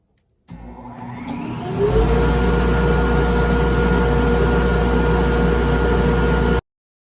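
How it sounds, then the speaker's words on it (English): A loud workshop dust collection system starts up with a click, ramps up over a second or so, then holds a steady, powerful roar with a low hum and broadband rushing air, running alone until it cuts off. "I'm going to turn on the dust collection, so it's going to be loud."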